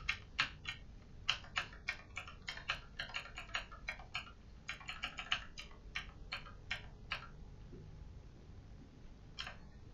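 Computer keyboard typing, close and quiet, with rapid bursts of crisp key clicks separated by short pauses, then a single late tap after a lull.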